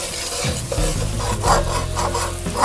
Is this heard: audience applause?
no